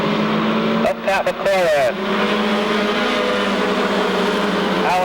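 Race trucks roar around Seekonk Speedway in a loud, continuous engine drone with passing vehicles sweeping in pitch, while an announcer talks over the noise.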